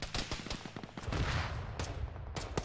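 Rapid gunfire aimed at bunkers in the ArmA military video game, a quick string of sharp shots followed by a rolling, booming wash of rumble and a few later cracks, fairly distant.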